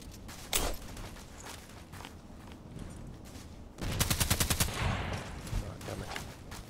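Automatic rifle bursts in the online shooter Contract Wars: a single loud crack early, then a rapid string of sharp, evenly spaced shots in the second half, over steady in-game background noise.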